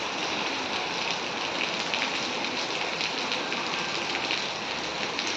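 Heavy, steady downpour of rain on a rural farmyard, a dense unbroken hiss of drops on surfaces, close and even throughout with no voices.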